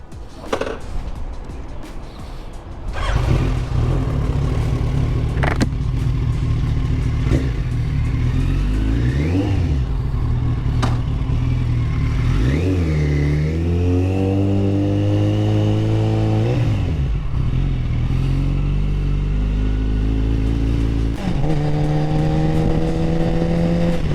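A 2008 Yamaha FZ1 motorcycle engine runs continuously while riding, loud and close, rising and falling in pitch through repeated revving and gear changes, with a brief quieter idle at the start.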